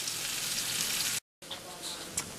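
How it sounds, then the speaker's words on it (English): Onions fry in a pan with a soft, steady sizzle and crackle, broken by a brief gap of silence before the hiss resumes with a few sharper pops. "Frying my onions."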